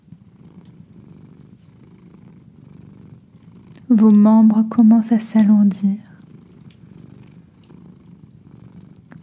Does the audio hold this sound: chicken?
no